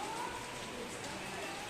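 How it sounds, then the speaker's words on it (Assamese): Heavy rain pours steadily, a dense, even hiss of drops on surfaces at low level, with no voices. "চাওক একবাৰ কিমান বৰষুণ"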